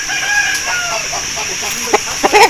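An aseel rooster, a champion fighting cock, crows at a farm in Mandi Bahauddin, with a few sharp calls standing out near the end against a steady background of other birds and ambient noise.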